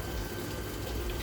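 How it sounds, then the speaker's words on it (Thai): Water rushes steadily into a washing machine inlet through a newly fitted one-in, two-out tap splitter. The flow is loud and close, with a constant gushing hiss across the short stretch. "นี่ครับ น้ำไหลแล้วครับตอนนี้"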